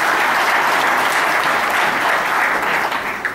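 An audience at a Malayalam film audio launch event applauds loudly and continuously for the cinematographer Prakash Kutty, a dense wash of clapping that fades slightly at the end.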